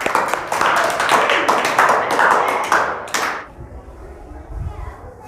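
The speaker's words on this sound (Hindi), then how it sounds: "अरे वाह, ताली बजाओ।" Children in a classroom clap their hands together in a quick burst of sharp, close claps that stops abruptly, followed by quieter room noise and faint movement.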